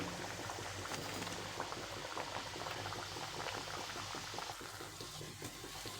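Besan puris deep-fry in hot oil over a medium flame for damtya laddu, making a dense, continuous crackling bubble at close range, steady throughout with no voices.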